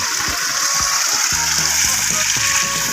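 Strong water flow rushing through an open irrigation canal beside rice fields during flooding after heavy rain, a loud continuous broadband gush with splashing, steady throughout with brief low tonal hums layered in.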